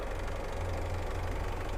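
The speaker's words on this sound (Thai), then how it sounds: "สตาร์ทเครื่องยนต์แล้วเรียบร้อยนะครับ" Isuzu D-Max 2.5-litre diesel pickup idles with the hood open, a steady low clattering rumble close to the engine bay with no talk.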